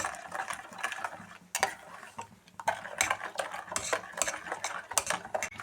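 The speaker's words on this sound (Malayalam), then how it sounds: "ഇടയ്ക്കിടയ്ക്ക് ഇളക്കി കൊടുക്കണം കേട്ടോ" A spoon scrapes and clinks against a pan while pudding mixture with sugar is stirred on the stove, in irregular close, moderately loud strokes with no talking.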